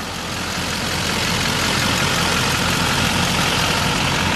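A 2004 Chevy C5500 rollback flatbed truck with a 6.6 liter Duramax diesel engine idles steadily, a loud, continuous low rumble with dense broadband clatter and no pauses or voices.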